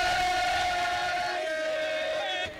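Football fans at a rainy Fla-Flu centenary match celebrating in the stands, a dense sustained roar of crowd voices with chanting tones, close and loud for a short burst before cutting off.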